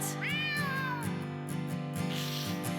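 A cat gives a single clear, rising and falling meow near the start, set against a snowy children's song with rhythmic music underneath.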